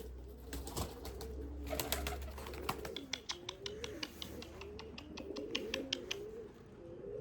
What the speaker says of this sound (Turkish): Yavru çok ciyaklıyor ya